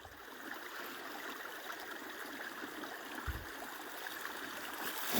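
A forest stream in the Morvan flows steadily on a frosty winter morning, a faint continuous rushing and babbling with no voices.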